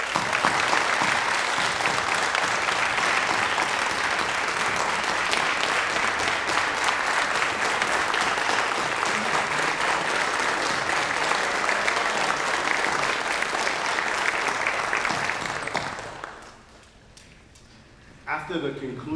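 Sustained, loud audience applause at a university athletics Hall of Fame induction ceremony, dense clapping that holds steady for about sixteen seconds before fading out.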